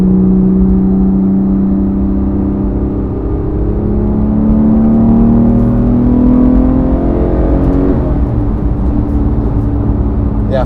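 A Porsche 911 GT3 Touring with a new, not yet broken-in engine revs loudly from inside the car, its pitch climbing smoothly through a gear, then dropping and rising again, kept below 7,000 RPM.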